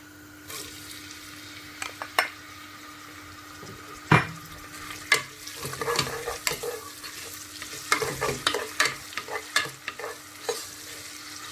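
Onions drop into a pot of hot oil with cumin seeds and sizzle, while a spoon repeatedly knocks and scrapes against the pot as they are stirred.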